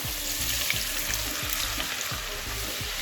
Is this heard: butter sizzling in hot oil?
yes